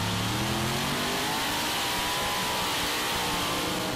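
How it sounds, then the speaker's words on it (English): Tractor-pulling engines roar loudly and continuously at a pulling event, with rising pitch as they rev hard under strain. "Two Brad Anderson motors looking very good there together."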